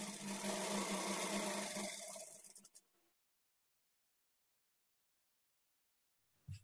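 A sewing machine stitches blouse sleeve pieces, its motor humming loud and steady for about three seconds before it stops. Silence follows, then a brief low thump.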